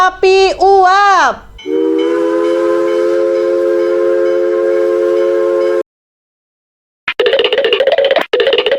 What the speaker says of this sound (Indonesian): Kereta api uap.